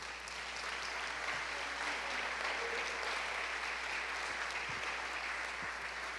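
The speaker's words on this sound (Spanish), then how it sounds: "Dele una ofrenda de palmas al Señor." A church congregation applauds during a Spanish-language evening service, steady dense clapping from many hands sustained for several seconds at an even level, filling the room without pause.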